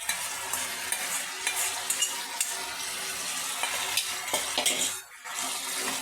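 Cooked shrimp tipped into a pan of frying masoor dal bara mixture, giving close sizzling and frying with stirring scrapes and a few clinks of utensils against the pan, no voices.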